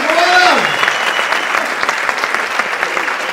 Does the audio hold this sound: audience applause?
yes